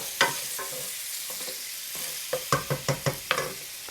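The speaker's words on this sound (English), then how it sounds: "this is coming up to the boil." A pan heating toward the boil on an electric stove gives off a steady soft sizzle, broken by a series of sharp clinks and scrapes of stirring near the end.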